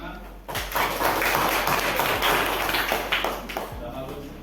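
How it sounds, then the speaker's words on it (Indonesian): Classroom applause breaks out as hands clap together in a fast, even patter for a few seconds, fairly close, with voices mixed into the noise. "Tepuk tangan."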